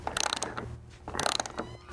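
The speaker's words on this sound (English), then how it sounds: "it's a 5/8 wrench and then a 10mm ratchet. And we're gonna go ahead and just start cranking it down" A 10mm ratchet clicks rapidly in two quick bursts as roof rack bolts on a Toyota Tundra are cranked down, close and crisp with a short pause between runs.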